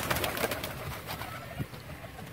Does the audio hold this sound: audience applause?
no